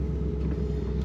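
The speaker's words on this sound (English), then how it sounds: "That numbers matching L48 350 fires right up." A numbers-matching 1977 Chevrolet Corvette with its L48 350 V8 rumbles steadily at close range, a deep, even low-pitched drone that holds without a break.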